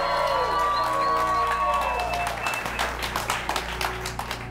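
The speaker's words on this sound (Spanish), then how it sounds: "un aplauso" Crowd applause and cheering for the winners of a rum cocktail competition grand finale, loud dense clapping with whoops that thins into scattered claps, voices mixed in.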